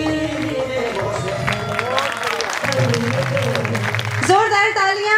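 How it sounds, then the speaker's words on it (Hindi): Applause from an audience at a cultural program at the Murthal Mahotsav, a sustained crowd clapping that swells toward the end, mixed with an enthusiastic voice talking over it. "जोरदार तालियां"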